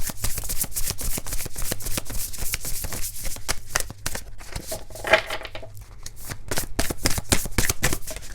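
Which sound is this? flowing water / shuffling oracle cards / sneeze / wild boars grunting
shuffling oracle cards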